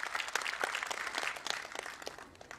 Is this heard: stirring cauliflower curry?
no